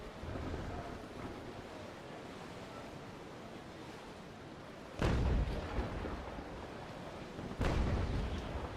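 Two booming broadside cannon shots from sailing warships in Naval Action, heavy blasts at about five and seven and a half seconds, each with a lingering rumble over a steady bed of ocean surf and wind.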